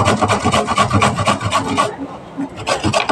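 Carrot rubbed against a grater for carrot halwa makes rapid, rhythmic rasping strokes, close and loud, with a brief pause before the scraping resumes.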